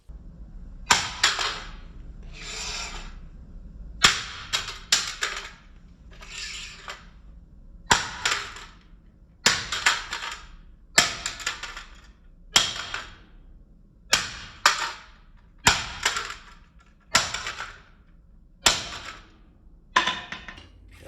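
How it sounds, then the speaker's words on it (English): A hammer repeatedly whacks a folding hand saw on its handle, latch and blade, giving about a dozen sharp metallic strikes in loose clusters, close and loud with brief ringing decay and no talk. "we're gonna smack it with a hammer on the handle, on the latch, on the handle, on the blade"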